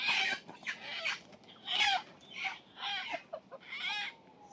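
Chickens cluck close by in a rural farmyard, giving a run of five or six short, bursting calls separated by brief pauses, with no voices alongside.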